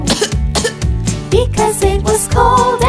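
A cartoon fire's coughing in a children's nursery-rhyme song about the cold: a run of loud, sung-style coughing bursts over bright musical backing, repeated several times in quick succession.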